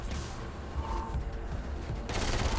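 Gunfire in the video game Saints Row 4, a dense, continuous rattle of rapid shots mixed with mechanical clatter, loud and close, with a sharper burst near the end.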